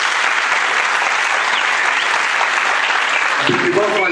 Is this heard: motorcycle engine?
no